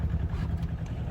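A sailboat's engine runs at a steady low throb while the boat motors on passage from Portugal to the Canary Islands, rumbling continuously and close up with some wind noise.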